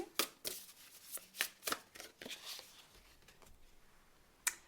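Astrology cards being shuffled by hand: a quiet run of crisp riffling and flicking bursts, with a final sharp flick near the end and no voices.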